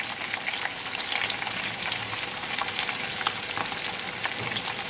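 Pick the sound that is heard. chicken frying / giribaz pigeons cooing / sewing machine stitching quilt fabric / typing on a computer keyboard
chicken frying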